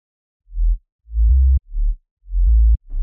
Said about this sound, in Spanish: En el patrón 3 tengo un Harlem con un bajo que suena así